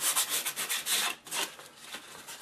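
Sandpaper rubs back and forth over a curved MDF baseboard in quick, rhythmic strokes, close up and moderately soft, with no voices.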